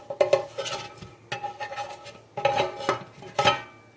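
Grilled turkey sandwiches in a pan are flipped and shuffled with a spatula, giving a series of close metallic scrapes and clinks in uneven bursts over a low kitchen background, with no talking.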